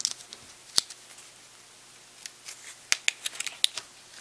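Paper circles being folded for a magnetic origami ring give off sparse, crisp crinkles and taps, a few sharp clicks scattered among quiet gaps, close and fairly faint.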